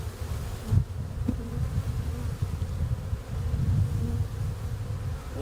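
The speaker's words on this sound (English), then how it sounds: "Just know the bees are kind of going to go everywhere." A dense, continuous buzz of many honeybees from a package being installed into a hive, swarming close by, with a few soft knocks and rustles underneath.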